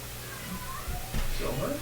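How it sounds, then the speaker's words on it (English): A house cat meows faintly over a Discord voice call, a short wavering cry near the end under background noise and talk. "One of my cats making noise"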